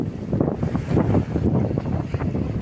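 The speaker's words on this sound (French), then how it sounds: "Nous sommes sous voile." A sailboat under sail on the Atlantic, heard as steady rushing wind buffeting the microphone with low water and hull noise beneath, continuous and loud with no talking.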